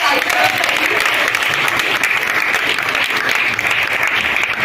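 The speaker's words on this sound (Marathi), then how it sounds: "एकदा जोरदार टाळ्या" Loud, dense applause from a crowd at a film success party fills the whole stretch, steady and close, with a voice faintly under it at the start.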